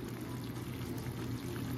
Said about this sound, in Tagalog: Lagay natin yung 1 cup ng water kanina.